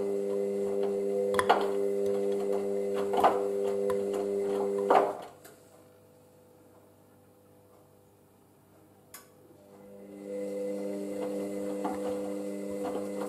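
An Indesit IWC6165 washing machine runs a Coloured Cotton 40 eco time cycle with a medium load of work gear, giving a steady mechanical hum with periodic bumps and knocks; it goes quiet for a few seconds midway, then the drone resumes.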